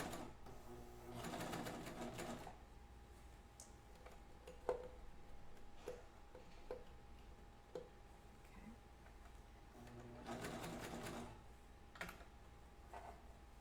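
Sewing machine stitching a zipper under a standard foot, quiet and close, in two short bursts of rapid mechanical chatter separated by a pause filled with faint clicks and handling sounds.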